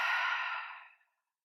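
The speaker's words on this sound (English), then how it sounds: "Take a deep breath in and a deep breath out." A single deep exhale during a yoga session, a breathy whoosh that starts strong and tapers smoothly into silence within about a second, heard close with nothing else around it.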